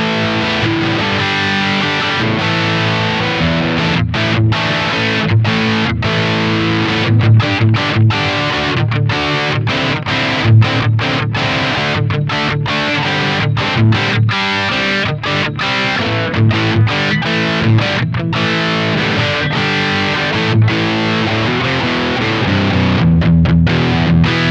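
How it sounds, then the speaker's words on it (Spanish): An electric guitar plays through a Wampler Sovereign distortion pedal. It gives a loud, thick, saturated tone with sustained chords and quick rhythmic chops and stops, playing on its own for the whole stretch. "En el loop 6 vamos a tener el Sovereign de Wampler, que es un pedal de distorsión."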